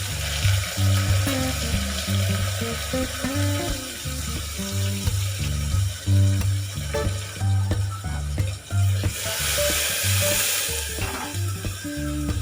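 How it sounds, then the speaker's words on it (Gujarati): Chopped onion fries for masala khichdi, a steady close sizzle and hiss that runs throughout, with faint clinks and stirring sounds on top and a tonal hum underneath. "કટિંગ કરેલી ડુંગળી એડ કરીશું"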